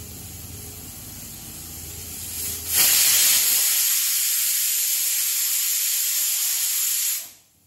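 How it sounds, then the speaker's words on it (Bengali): A pressure cooker cooking khichuri lets out a loud, steady whistle and rush of steam that starts suddenly and holds for about four seconds before cutting off, after a quieter hiss of venting steam. "আর একটা সিটি পড়ুক"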